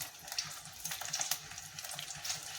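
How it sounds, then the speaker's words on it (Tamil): Garlic and dried chili fry in hot oil, giving a steady, soft, crackling sizzle with light irregular pops, close and on its own. "நல்லா சூடாயிட்டு இப்போ பூண்டும் காஞ்ச மிளகாயும் அதை போட்டுக்கலாம்."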